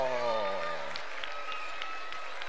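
Applause at a magic show in a charity gala breaks out after a dove appears, beginning under a voice and then continuing as steady, moderately loud clapping from the audience on its own.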